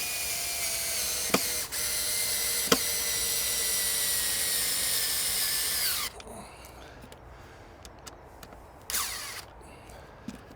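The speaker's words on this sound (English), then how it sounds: "I'm just going to put the top screw in again." A power drill drives the top screw into pallet wood in one long whirring run with a couple of sharp clicks, then stops, leaving quieter handling noises and a brief burst near the end.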